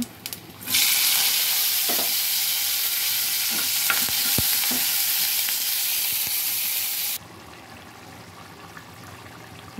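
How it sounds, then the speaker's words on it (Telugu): Fish pieces dropped into a pan of simmering gravy: a loud, steady, broadband sizzle bursts in after a moment, holds with faint stirring taps, then drops away abruptly near the end. "ఇప్పుడు చేప ముక్కలు వదులుదాం"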